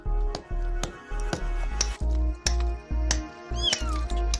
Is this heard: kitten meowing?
yes